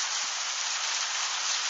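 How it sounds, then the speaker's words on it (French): Hail mixed with sleet pelting a yard in Tour-en-Sologne during an intense February storm, a dense, steady hiss of countless small impacts with no pauses and no voices. "Ah mais il n'y a pas que de la grêle, il y a de la neige fondue avec eux"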